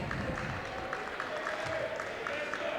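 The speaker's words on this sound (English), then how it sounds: "As we see the St. Joe Central crowd giving applause to Cole Hopkins as he is subbed out of the game" A St. Joe Central crowd gives steady, moderate applause in a gym during a men's high school basketball game against Park Hill, with an announcer talking over it.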